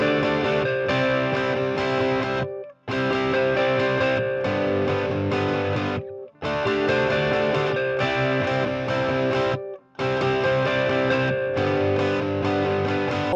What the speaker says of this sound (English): There's a beautiful melodic guitar that just acts like a hook.